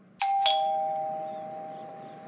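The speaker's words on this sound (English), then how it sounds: "Ding dong ditches?" A video game doorbell rings with two bright, sharp chimes in quick succession, then a long clean tone that slowly fades into silence, loud and alone.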